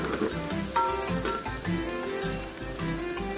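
Green chili and onions fry in a pan with a steady, close crackling sizzle and soft bubbling pops throughout, and no voices.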